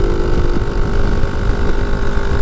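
A Suzuki Address scooter engine labouring uphill gives a loud, unbroken drone mixed with wind buffeting, with no voices.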